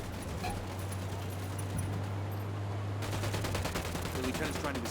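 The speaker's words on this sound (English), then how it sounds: "I'm shooting these fuckers." Rapid gunfire in Ghost Recon Wildlands, dense repeated shots that sharpen into a steady burst partway through, heard over a low steady hum with faint voices.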